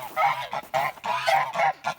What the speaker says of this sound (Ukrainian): Думаю, вижену гусей хай собі покупаються.